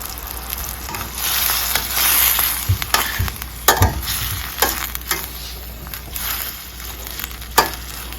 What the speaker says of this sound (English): we're gonna let this simmer down for at least 3 minutes